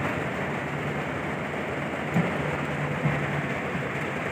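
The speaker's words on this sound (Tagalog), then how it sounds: "sobrang lakas ng ulan" Steady, dense hiss of heavy rain, constant and enveloping, with a faint low hum in the background and no voices.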